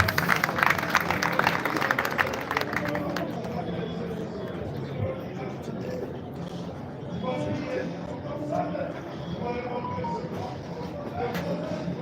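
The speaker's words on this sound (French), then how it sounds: "Si nous pouvons applaudir pour l'encourager, s'il vous plaît" Applause from mourners at the funeral of Papa Boniface Dumangbo, a dense burst of clapping over the first few seconds that fades into murmuring and talk from the gathering.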